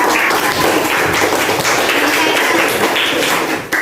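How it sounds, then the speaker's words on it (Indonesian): A classroom full of people claps in a dense, continuous round of applause for a student that holds steady throughout. "Ya, tepuk tangan buat Kaisan."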